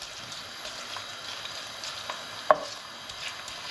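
Nduja warming in a pan, giving off a faint, steady sizzle with a low background hiss and one small sharp tick partway through.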